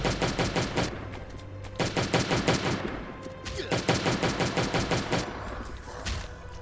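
Rapid automatic gunfire in the survival video game Last Day on Earth Survival, loud and close, in long sustained bursts with a brief pause between volleys.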